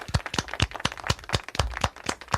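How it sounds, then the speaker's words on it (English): A few people give a round of applause on a podcast about military UFO files, sparse, distinct handclaps in an uneven rhythm, close and fairly soft. "Let's give him a round of applause"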